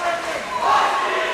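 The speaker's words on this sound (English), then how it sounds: "You can hear the cheering coming now." Spectators cheer and shout loudly at a boys' high school swim meet, with a sustained crowd roar that swells midway while a voice talks over it.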